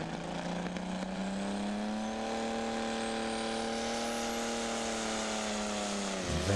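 Tractor pulling competition engine at the BTPA/ETPC finals, the machine called Major Madness, roaring steadily at a wheels-up start, a sustained loud drone with a slowly rising pitch and no voices.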